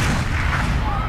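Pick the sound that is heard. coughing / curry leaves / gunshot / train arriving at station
gunshot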